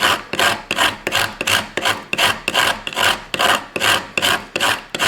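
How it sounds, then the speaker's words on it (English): A block of wood is scraped back and forth across a Smith's Tinder Maker grater, a loud close rasping stroke repeated about a dozen times in an even, quick rhythm. "So we're going to find out, but it's definitely grating."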